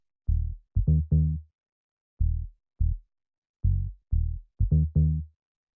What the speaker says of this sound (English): the first sound we have here is the bass